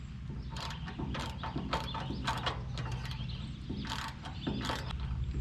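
A socket wrench works a bolt loose on a New Holland 570 small square baler, close, repeated ratcheting clicks and metallic knocks in irregular bursts over a low background hum.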